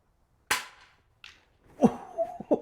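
A cheap air gun fires at steel gongs 25 meters away: one sharp, close pop, then a faint, distant metallic tap moments later, followed by a quiet voice nearby.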